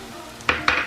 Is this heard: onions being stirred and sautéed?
yes